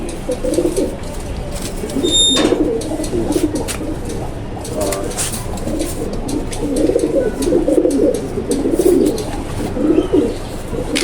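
Pigeons coo steadily throughout, a breeding pair kept in a home loft, their low throaty calls close and continuous with a brief higher chirp partway through.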